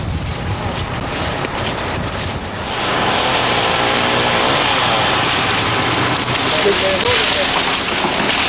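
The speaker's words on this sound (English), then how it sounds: "The freezing rain has started again." Freezing rain falling during the 1998 Montreal ice storm, a loud, dense, continuous hiss and patter that swells and holds steady, with a low engine-like rumble underneath.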